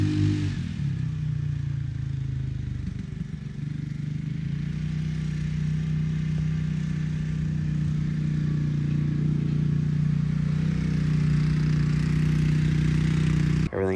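A Polaris Ace 500 UTV with modified hand controls running on a test drive, a steady low engine drone holding constant pitch, loud and close throughout, with brief scraping at the start and a cutoff at the end.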